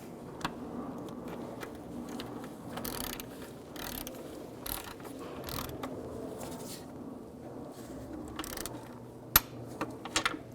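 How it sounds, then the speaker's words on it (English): A torque wrench tightens the intake manifold bolts on a 2003-13 Toyota Matrix with soft ratcheting clicks and light metallic ticks, faint and close over a low background hum, with a couple of sharper clicks near the end. "I'm going to torque them in a certain sequence"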